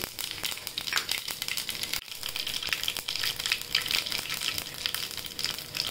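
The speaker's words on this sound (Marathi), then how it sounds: "मोहरी तडतडली की जिरं टाकूया।" Mustard seeds splutter in hot oil while tempering a vegetable filling for ulta vada pav. The sound is a close, steady crackling sizzle broken by sharp pops, with no talking.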